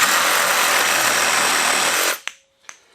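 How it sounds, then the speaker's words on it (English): Milwaukee full-size reciprocating saw with a pruning blade cutting, a loud, dense buzzing rasp that runs steadily for about two seconds before stopping abruptly, followed by a couple of faint knocks. "quick demonstration of a full size reciprocating saw with that pruning blade, and just see what it does"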